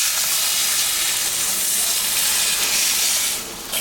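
Water poured into a pan of sizzling small-fish curry with potato, a loud, close, steady hiss of steam and frying that eases off slightly at the end.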